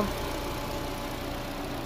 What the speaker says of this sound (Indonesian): ini posisi nyala ya mesin mobil